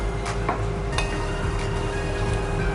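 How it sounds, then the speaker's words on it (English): A spoon stirs saffron (kesar) into a kulfi mixture in a pot, making soft scraping and clinking strokes at an even pace, close and moderately loud, over a steady background hiss, with no talking. "Give the kesar a nice stir."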